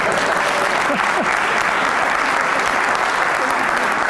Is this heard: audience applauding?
yes